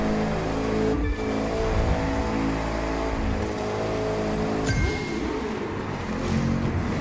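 Racing video game car accelerating, with a loud, continuous engine roar that rises and shifts in pitch and brief swells in intensity, steady throughout with no voices.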